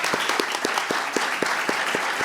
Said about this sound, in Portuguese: Uma salva de palmas aí para o Dr.